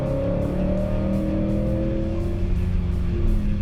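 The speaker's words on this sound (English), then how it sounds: "Hard on the brakes, using our two-piece brake rotors and aftermarket Hawk brake pads" A Steeda S550 prototype Ford Mustang with Kooks headers brakes hard on a track after a 150 mph back straight. The engine note drops steadily with a sustained falling drone, loud and close, and no one speaks.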